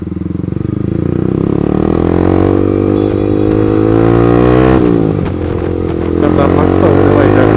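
A motorcycle engine revs hard and loud up close on a festive group ride in Jalgaon, its throaty roar rising and falling continuously with a rough clattering note and no talk over it.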